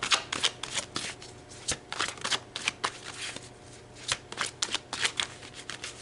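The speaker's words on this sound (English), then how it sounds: "let's pull some tarot" Tarot cards are shuffled by hand close to the microphone in quick, crisp riffling bursts that repeat in an uneven rhythm over about six seconds.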